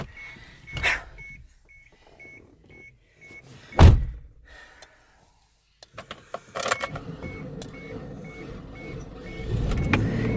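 An old car being started: a door thunk and a repeating warning chime come first, then a burst of engine cranking catches into a steady, rough running rumble toward the end.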